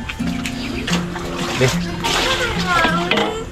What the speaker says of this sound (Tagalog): Ang lakas ng dun tubig papunta dito.